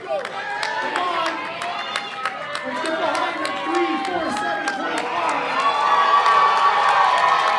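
Crowd at a powerlifting nationals meet cheers and shouts steadily for a lifter, a dense roar of voices with whoops and scattered claps that swells louder toward the end.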